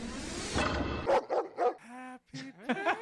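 A podcast sound drop of a dog barking: several separate yips and barks with short whimpering tones, close and clear, following a burst of busy noise at the start.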